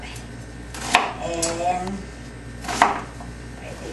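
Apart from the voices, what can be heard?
knife chopping an onion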